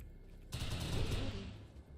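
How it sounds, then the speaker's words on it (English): A sudden burst of rapid automatic gunfire in a video game kicks in and keeps rattling, a dense crackling volley that stays fairly steady before easing slightly. "the gunfire was just a little loud for me"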